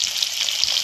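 Chopped green chili crackles in hot oil along with fried garlic and ginger for dal makhani, a dense, steady close-up sizzle with no voices.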